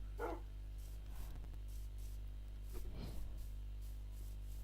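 A dog in a Minecraft horror mod barks twice, a short bark near the start and another a few seconds later, both fairly faint over a constant low droning hum.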